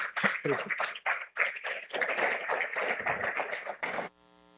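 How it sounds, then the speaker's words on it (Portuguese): Church congregation clapping for the Lord during a sermon by Pastor Tarciano Bernardes, uneven bursts of many hands clapping loudly and irregularly for about four seconds before cutting off abruptly. "Você pode aplaudir o Senhor?"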